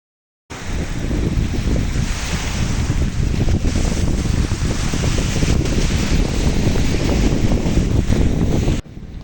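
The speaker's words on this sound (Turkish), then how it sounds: "Sesten anlaşıldığı gibi ilk günler sahilde aşırı bir rüzgar vardı." Strong wind roars steadily into the microphone at the Kocaeli shore, loud and unbroken, with no voices.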